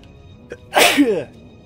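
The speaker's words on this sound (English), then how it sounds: "I have to sneeze." A single sharp sneeze, loud and close, preceded by a quick breathy intake.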